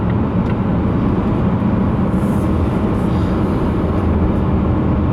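A 2017 Volvo S90 R-Design T6 Polestar, its two-litre four-cylinder 330-horsepower engine at full power, produces a loud, steady roar with heavy road and wind noise inside the cabin, continuous and without talk.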